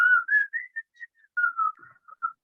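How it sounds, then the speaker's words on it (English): A single person whistles a short, wavering melody of quick notes and pauses, clear and close, with no other sounds. "whistle with a loud whistle"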